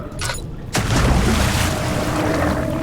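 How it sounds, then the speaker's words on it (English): A deep watery splash and surge from the water monster in the video game Amnesia: The Dark Descent follows a brief thin rustle, then a heavy rumbling wash of churning water lingers loudly. "There's the sound of the water monster. He's nearby."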